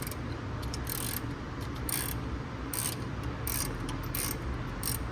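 A ratcheting 15 or 16 mm wrench turns a nut while fitting an LED wheel badge on a widebody Challenger, making repeated bursts of rapid clicking in an uneven rhythm, close up over low background hum.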